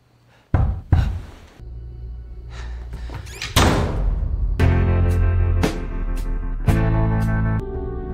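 Someone knocking on the door of a house at night, a few sharp raps and thumps followed by heavier knocks that ring on into a sustained, resonant tone.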